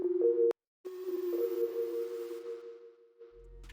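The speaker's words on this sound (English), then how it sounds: "just another portal preset here, melody reduction. And this is what it sounds like solo" A soloed Portal plugin preset called melody reduction plays a sustained, buzzing synthetic tone for a rap beat. It cuts out briefly near the start, then resumes and holds with a gritty upper shimmer before fading as a low thump enters.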